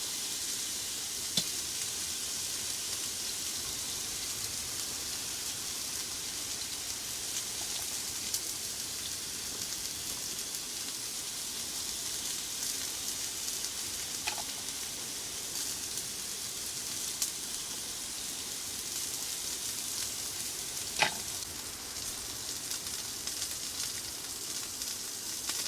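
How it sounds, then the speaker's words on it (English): Steak sizzling in a pan, a steady close crackling hiss that runs unbroken throughout, with a few faint pops and ticks and no voices. "That sound of the sizzling steak."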